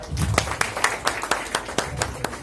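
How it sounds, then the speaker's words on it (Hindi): A small group claps at an even beat, a sequence of sharp hand claps roughly four per second, close by and moderately loud. "जोरदार तालियां।"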